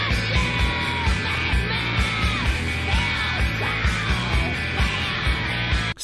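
A female punk vocalist yells hard over a dense, loud grunge-era band mix, her strained shouting sustained across the whole stretch.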